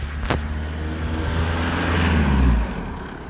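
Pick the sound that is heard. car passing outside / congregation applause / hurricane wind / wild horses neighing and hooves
car passing outside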